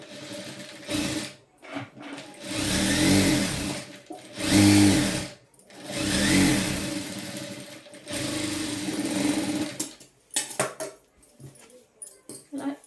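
A sewing machine stitches lining onto lehenga blouse sleeves in several whirring bursts of a few seconds each, separated by short pauses, close and steady, ending in brief stop-start runs.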